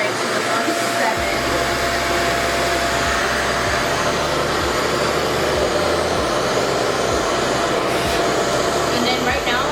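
A REVAIR hair dryer blows on setting 7, a loud, constant whooshing airflow that starts abruptly about a second in and runs steadily, with faint thumps beneath and voices over it.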